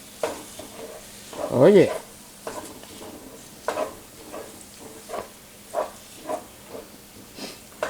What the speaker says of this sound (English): I'm going to go ahead and brown that garlic up a little bit. Stir that around.